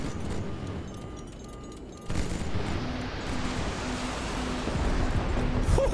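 A minigun roars and missiles explode in a chaotic video game battle. Dense, continuous rumbling fire and blasts swell louder midway and keep going without a break.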